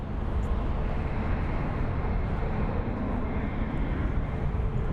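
A TUI Boeing 737 MAX 8 airliner at Frankfurt Airport gives off a steady, broad jet-engine roar, close and constant with no breaks, and a faint voice now and then underneath.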